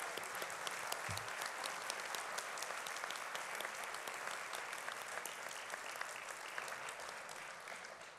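An audience at an inaugural ceremony gives steady, warm, sustained applause that runs evenly throughout and sounds somewhat distant.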